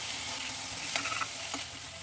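Quiet, even sizzling of moth beans stir-frying in spice masala, with a couple of soft scraping stirs partway through; no voices.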